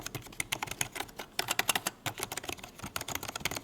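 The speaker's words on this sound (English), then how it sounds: "Very fake, plasticky keys, like I'm playing with a toy keyboard." Plastic keys on a BUGHA one-handed LED gaming keyboard clatter in quick, uneven bursts of typing, recorded close up with a light, toy-like clack.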